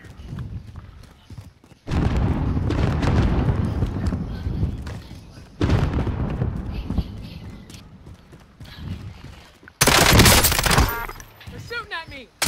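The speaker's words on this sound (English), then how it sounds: "They're shooting at me." Gunfire crackles in a Call of Duty Warzone quads match, coming in loud, dense broadband bursts with quieter gaps between them, under players talking over voice chat.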